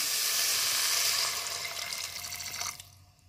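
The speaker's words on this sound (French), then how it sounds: "Là, je rajoute mon bouillon." Chicken broth poured into a hot cooking pot for a carrot and orange soup, a steady close sizzling pour that fades away over about three seconds with no talk.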